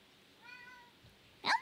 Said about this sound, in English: My cat's here